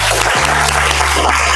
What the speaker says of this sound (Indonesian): Beri aplaus untuk Aris.